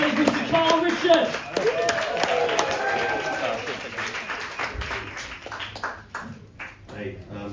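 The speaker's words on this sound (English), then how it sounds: "Please have a round of applause going for our next act" Applause with some cheering rises from a comedy club audience as a stand-up comedian is called to the stage, the clapping strong at first and then fading, with a host talking over part of it.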